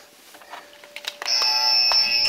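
A high-tech quiz buzzer in a football pundits' quiz show sounds after a few faint knocks: a loud, steady electronic tone that holds continuously for over a second until the end.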